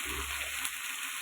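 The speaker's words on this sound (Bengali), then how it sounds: "ভালো করে এখন কষিয়ে নিতে হবে এটাকে।" Spices with Kashmiri chilli powder, turmeric and salt sizzle steadily as they are sautéed in a pan for Katla fish kalia, a soft continuous frying hiss with faint stirring.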